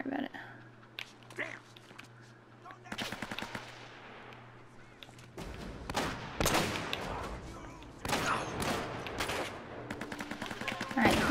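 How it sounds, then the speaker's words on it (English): Gunfire in Uncharted: Drake's Fortune, with rapid bursts of automatic shots and scattered single cracks coming at close range, mixed with footsteps and other game noise, building louder toward the end. "who is shooting me?"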